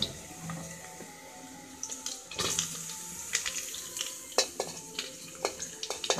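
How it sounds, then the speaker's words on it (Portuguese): Calabresa sausage frying in a pot with onion and garlic, a steady low sizzle with scattered stirring scrapes and clinks of a utensil against the pot, fairly close and without talk. "eu vou colocar a linguiça calabresa para fritar junto"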